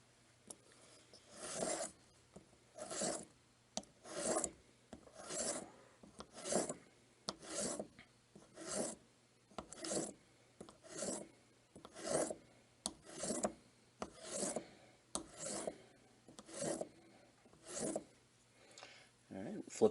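Straight razor stroked back and forth across a flat, polished sharpening stone, a dry rasping swish repeated in a steady rhythm of about fifteen close, even passes.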